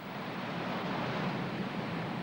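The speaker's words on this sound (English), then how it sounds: "Great torrents of water surge down the river." Great torrents of Nile water swollen by Ethiopian rain and melting snow surge downriver, a dense, steady broadband rush with no pauses, loud and close throughout.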